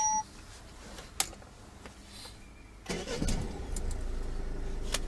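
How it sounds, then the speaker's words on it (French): A car engine cranks and restarts while sitting in neutral during a driving lesson, a sharp click followed by the starter catching and a steady idle rumble settling in near and loud. "je vais te laisser redémarrer le moteur"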